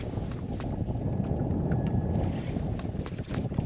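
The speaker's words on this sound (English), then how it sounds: "This wind is" Wind buffets a fishing boat in a steady, close rushing roar, with faint splashes and knocks now and then.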